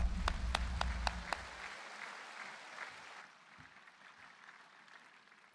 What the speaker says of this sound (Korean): 뜨겁게 박수하겠습니다.